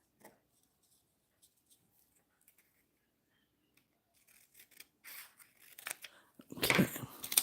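Scissors snip through paper for a junk journal, sparse and faint at first, then building into louder, denser cutting and rustling near the end.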